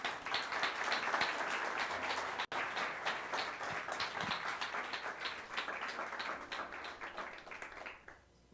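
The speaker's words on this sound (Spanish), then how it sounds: "dale un fuerte aplauso al Señor." A church congregation claps in a sustained round of applause, many hands in a rapid, dense patter that holds steady for several seconds before tapering off, fairly distant and soft.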